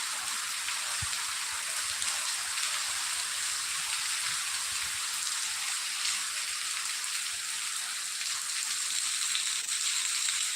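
Steady rain hisses down evenly throughout at a Hanuman statue, a dense constant patter with no voices.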